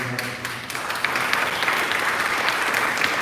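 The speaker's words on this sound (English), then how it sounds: "Let's give another round of applause." An audience at an awards ceremony for honorees claps steadily, a dense, sustained wash of applause from a crowd throughout with no voices standing out.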